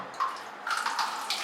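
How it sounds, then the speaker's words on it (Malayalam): Water is poured into a simmering egg curry, a short close splashing pour in two brief bursts. "നമുക്ക് കുറച്ചും കൂടി വെള്ളം ഒഴിച്ചു കൊടുക്കണം"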